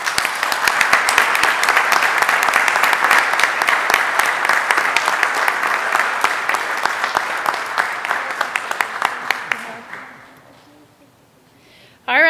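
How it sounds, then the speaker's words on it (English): A room full of people at a city council meeting applauds an honoree with steady, dense clapping for about ten seconds before it fades out, followed by a voice at the very end. "give her one more round of applause"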